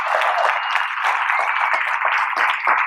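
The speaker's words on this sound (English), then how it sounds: "Please give them a round of applause." Audience applause for military members and veterans in a crowd, a steady dense wash of many hands clapping continuously throughout.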